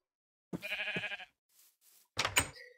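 A Minecraft sheep bleats twice, each a short, wavering nasal cry separated by a pause with faint soft sounds, close and clear against otherwise silent game audio.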